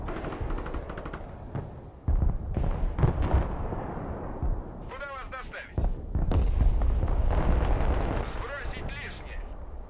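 Artillery fire in the Broken Arrow war game: heavy booming blasts and rumbling impacts that come in waves, loud and dense, with people talking over them.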